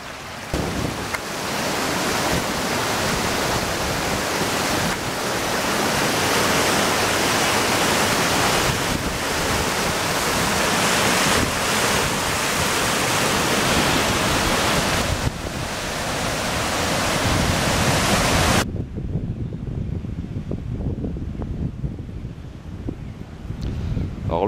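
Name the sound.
mountain streams flowing beside hiking trail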